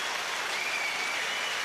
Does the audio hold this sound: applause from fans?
yes